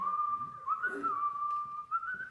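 A single person whistles a wavering tune, close and clear, with faint background noise underneath.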